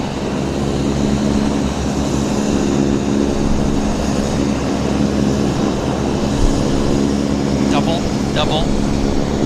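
A WestJet Q400 turboprop airliner turning onto the active runway at Vancouver Airport gives a loud, steady engine drone with propeller hum that continues throughout, and someone talks over it.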